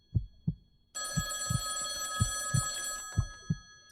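Old-style telephone bell ringing in the horror game ECHO, a sustained metallic trill lasting about two seconds over a slow, loud heartbeat-like thumping that continues before and after.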